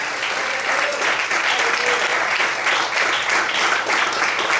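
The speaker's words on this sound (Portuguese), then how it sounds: "aplauda ao nome do Senhor essa noite" A church congregation applauding during an evening worship service: steady, dense clapping from many hands, filling the whole stretch at moderate loudness with some voices mixed in.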